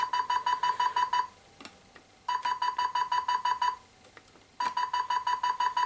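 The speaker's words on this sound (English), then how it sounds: "There's a lot of beeping." A Star Wars Hasbro AT-TE toy vehicle beeps in rapid repeating electronic bursts, three clusters of bright pulses separated by short pauses, close and clear with no talking.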